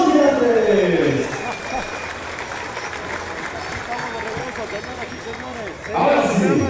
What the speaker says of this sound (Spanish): Vamos a recuperar el reconocimiento de aplausos que se escuche fuerte a la 1, a las 2 y a las 3